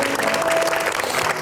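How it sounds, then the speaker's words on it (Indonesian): A studio audience at a talk show breaks into dense, loud applause, with many hands clapping in a continuous wash for a brief moment. "tepuk tangan dulu dong."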